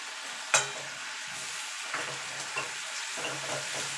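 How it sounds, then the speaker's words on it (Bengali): Garlic paste being fried with already browned onions in a pan, a soft continuous sizzle with a sharp clink of a spoon near the start and light scraping stirs throughout. "এবার রসুনটাকে একটু ভালো করে ভাজা ভাজা করে নেবো"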